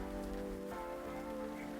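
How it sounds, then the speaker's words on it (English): Steady rain falls against glass and stone on a quiet night in the city, a soft continuous patter over a sustained tonal backing. "only the steady fall of rain against glass and stone"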